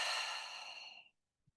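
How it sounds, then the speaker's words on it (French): One long, close breath exhaled through the mouth during a guided breathing exercise, easing off into silence about a second later. "On inspire par le nez et par la bouche, on expire."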